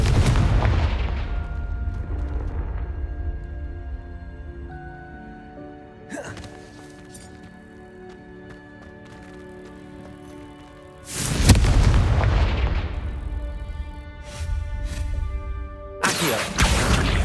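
Confringo blasting spells in Hogwarts Legacy burst out as heavy booming explosions, one at the start and two more later, each a loud roaring blast trailing into rumble, with quieter game sounds between.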